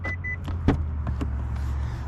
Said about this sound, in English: as I walk up to it, it opens the mirrors to greet me in a way